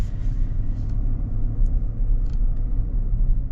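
A 2025 Chevy Tahoe Z71 with the 6.2L V8 idles with a deep, smooth, steady rumble, heard up close for a few seconds and heavy in the low end, with no voices.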